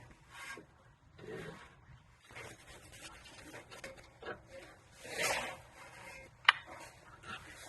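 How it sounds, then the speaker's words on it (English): An outer tie rod end on a car's steering, about fifteen years old, turned by hand to unscrew it: uneven rasping and rubbing scrapes in slow bursts, close by, with one sharp metallic click near the end. No talking. "then we're going to just simply turn the outer tie rod."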